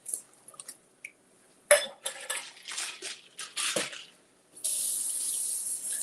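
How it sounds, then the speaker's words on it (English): Cooked chickpeas and their water are poured into a kitchen sink and rinsed, with clattering metal and dish knocks followed by a steady hiss of running tap water near the end. "we're going to pour these in the sink, and then we're just going to rinse them"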